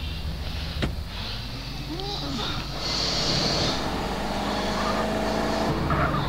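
Car engine and road noise from GTA San Andreas, a steady loud hum that builds slightly midway, with brief mechanical thumps and clatter, with no talk.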